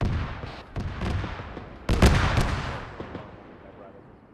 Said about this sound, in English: I'm hearing another autocannon out to the southwest somewhere.